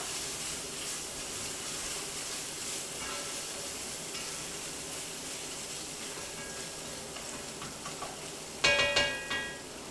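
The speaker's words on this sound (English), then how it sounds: "So we're going to kind of fry the tomato paste with the onions now." Tomato paste and onions fry together in a pan for a meatball marinara, a soft continuous sizzle with a few louder clinks and scrapes of stirring near the end.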